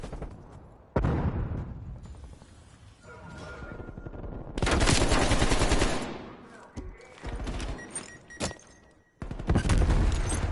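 Gunfire during a competitive Call of Duty match: repeated bursts of automatic rifle fire, loud and close, with short gaps and some heavier impacts, over roughly ten seconds with no talk.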